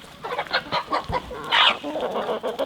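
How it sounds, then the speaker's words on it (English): Homestead chickens clucking close by in a run of short, uneven calls, with one louder squawk partway through and no talking. "Those chickens will take care of that."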